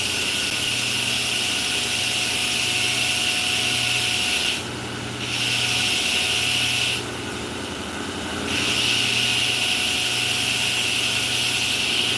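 A grinder works a piece of corrosion-resistant Monel nickel-copper alloy during hardness tests for a knife, giving a loud, steady abrasive whir that stops for two brief pauses.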